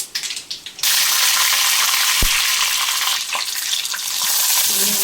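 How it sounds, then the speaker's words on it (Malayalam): Long beans with chopped onion, tomato and curry leaves sauté in a hot pan for a Kerala mezhukkupuratti, giving a steady loud sizzle with stirring scrapes that starts after a short softer stretch. "ചെറുതായിട്ട് അരിഞ്ഞതാണ് നമുക്ക് നന്നായിട്ടൊന്ന് വഴറ്റിയെടുക്കാം"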